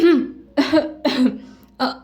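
Four harsh, voiced coughs in quick succession, close and loud, separated by brief pauses.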